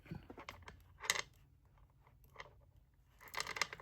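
Dull scissors cut through bracelet-making material, giving a few crisp, crunchy snips up close with quiet gaps between them.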